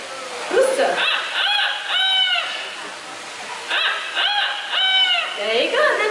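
At a live show, a bird gives two long drawn-out harmonic calls in imitation of a rooster crow, each a slow rising-then-falling wail, with a person's voice briefly in between and at the end.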